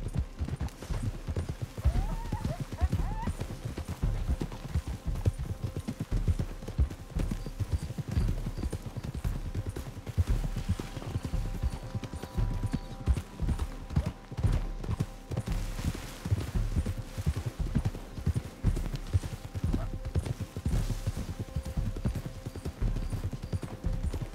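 Steady clip-clop of horse hooves galloping through bushes in the video game Red Dead Redemption 2, rhythmic and fairly close, with occasional rustling and a faint whinny.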